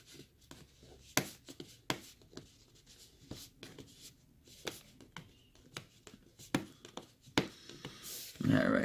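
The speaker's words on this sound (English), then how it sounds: "Got my scissors." Scissors cutting open the cardboard packaging of a PlayStation Classic Mini console box, giving a run of close, crisp snips and scrapes in an irregular rhythm, followed by a louder rustle of the package at the end.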